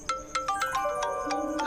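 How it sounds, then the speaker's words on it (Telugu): A mobile phone ringtone for an incoming call, a bright melodic sequence of short rising and falling tones repeating quickly, heard clearly on its own without talk. "అమ్మ కాల్ చేస్తుంది."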